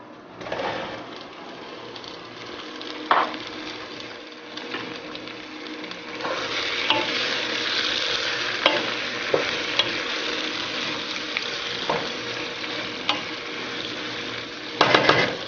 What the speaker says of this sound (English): While the tomatoes are getting tossed in this, I'll put the puree.